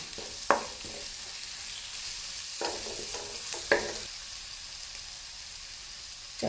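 Spices for a tempering sizzle and crackle in hot oil, with a few sharp pops and scraping stirs over a steady hiss; no voices.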